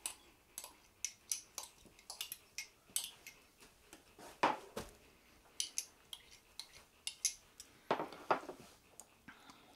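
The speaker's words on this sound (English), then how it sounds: "So I've mixed the dry mustard in with 1 cup of barbecue sauce" A spoon taps and scrapes in quick irregular clicks as dry mustard is stirred into a cup of barbecue sauce, quiet and close with no talk.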